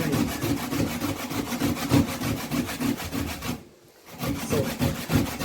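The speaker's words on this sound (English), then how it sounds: "after I finish grating the potato" Sweet potato is rubbed against a grater in rapid rhythmic rasping strokes, close and fairly loud, with a brief pause near the end before the grating resumes.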